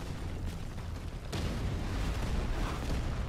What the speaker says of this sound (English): the explosions come on